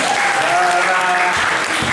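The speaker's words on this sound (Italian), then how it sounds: "Applauso per la mia figlia." Audience applause at a poetry slam, a dense, steady wash of clapping filling the whole moment, with a few voices faintly mixed into the crowd noise.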